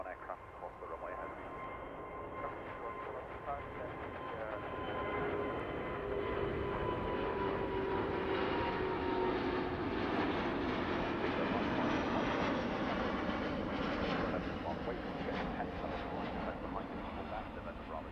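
A Boeing Dreamliner airliner at Heathrow Airport gives a loud, steady jet engine roar that holds and swells slightly over the whole stretch, close by and continuous.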